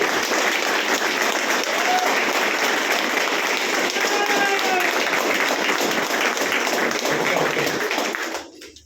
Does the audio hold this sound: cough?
no